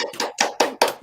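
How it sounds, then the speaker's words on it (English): A few hands clap in about five slow, separate bursts, close and fairly loud, like a small group applauding with no talk over it. "Let's give her a round of applause."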